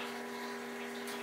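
Water runs steadily into a mash tun while brewing a best bitter beer, a continuous close hiss and gurgle with a faint pump-like hum underneath, heard alone.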